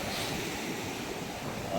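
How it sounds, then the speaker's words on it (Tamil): Rough sea surging onto the shore gives a continuous broadband roar of breaking waves mixed with wind buffeting, with steady noise and no clear speech. "இன்றைக்கும் வந்து கொஞ்சம் கொந்தளிப்பாக இருக்கே கடல்"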